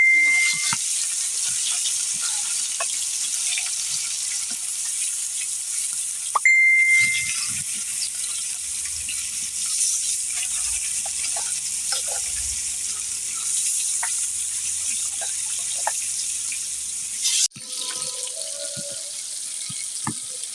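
Pieces of rui fish frying in oil on a clay stove, a steady bright sizzling hiss that runs throughout with a few faint clinks.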